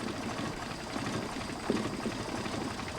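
A Mercedes 190SL engine with Solex 44PHH carburetors idles very low at around 300 RPM, a faint, soft, steady mechanical rumble with a light rhythmic patter.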